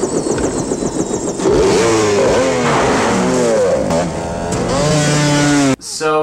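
Dirt bikes race through a chase scene in the 1990 film Captain America, their loud engines whining and revving up and down in overlapping sweeps before cutting off abruptly.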